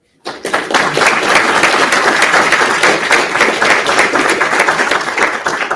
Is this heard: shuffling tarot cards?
no